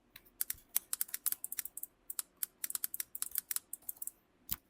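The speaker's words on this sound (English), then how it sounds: "I'm just going to type down a random email" Rapid, irregular bursts of key presses on a computer keyboard as an email address is typed, close and crisp, with brief pauses between clusters and no talking.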